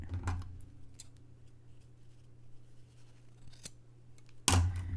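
Scissors cut material while building a miniature townscape cone-shaped cape and dress: a few sharp snips spread over a few seconds, with a louder, closer snip near the end, against a quiet background with a faint hum.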